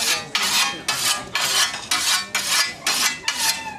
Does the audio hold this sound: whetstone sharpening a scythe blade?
yes